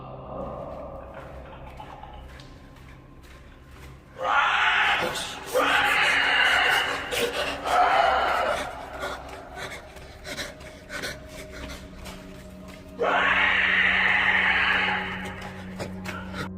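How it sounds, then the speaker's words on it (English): A weird, raspy scream echoes through a tunnel in two long bursts, with quieter scraping and rumbling between them. "he hears a weird scream coming from within the tunnel"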